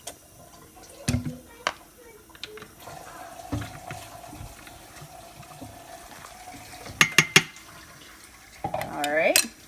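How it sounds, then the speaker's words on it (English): Apple cider vinegar is poured from a bottle into a measuring bowl, a short trickle of liquid amid clinks of glass and kitchen clatter, close and fairly quiet. "Dump some in my measuring bowl. There it goes. Some apple cider vinegar."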